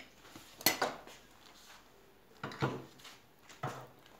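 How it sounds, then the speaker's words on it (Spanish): A small plate and a spoon handled on a kitchen counter while making a dessert: three distinct clinks and clatters, spaced about a second apart, fairly close and fairly quiet, with no voices over them. "Cojo mi platito, porque yo soy muy curiosa. Pongo mi cuchara"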